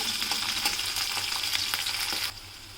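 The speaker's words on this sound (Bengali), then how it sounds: "পেঁয়াজটা একটু ভাজা ভাজা করে নেব" Sliced onion fries in mustard oil after black cumin seeds have gone into the pan, giving a steady crackling sizzle with light stirring scrapes that cuts off sharply near the end.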